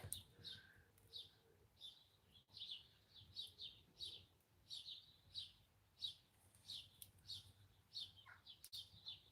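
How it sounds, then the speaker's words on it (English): Faint birdsong in the background, repeated short high chirps and tweets in a loose rhythm, fairly distant and quiet. "Birds are singing extra loud today."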